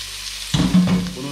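Chopped onions fry briskly in a hot pan for a creamy Zurich-style meat dish, giving a close, steady sizzle and crackle that jumps louder midway through.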